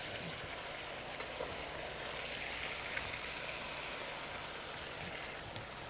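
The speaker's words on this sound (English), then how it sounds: "And then keep frying them." Steady crackling sizzle of japchae noodles frying with sauce in a hot pan, a dense, even hiss with faint scattered pops throughout.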